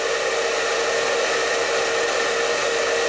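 A hair dryer on heat setting 3, roughly 1200 to 1300 watts, a steady, loud, close whirring blow with no change throughout.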